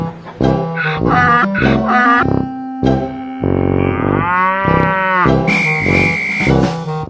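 A cartoon cow moos repeatedly, loud, close, drawn-out lowing calls with a slightly processed, effected tone, several in a row separated by brief pauses.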